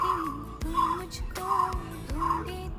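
Birds in a tree by a terrace garden feeder call in four loud, evenly spaced bursts, each a rough, throaty rising note, close by and without talk.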